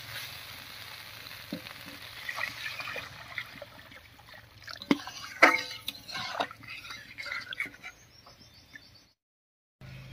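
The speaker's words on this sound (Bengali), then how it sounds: "এবারে ঝোলের জন্য জল দেব।" Water poured into a spice paste sizzling for a village-style river fish curry, with a steady frying crackle and scattered sharp pops that fade, ending in a brief silence; faint birdsong sits in the background.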